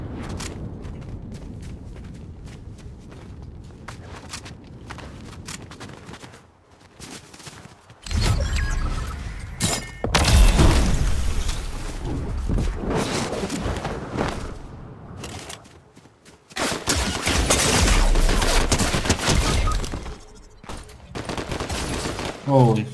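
Gunshots and machine-gun bursts erupt in a video game, starting with quieter shots and footsteps before loud, sustained automatic fire breaks out in long bursts separated by a short pause.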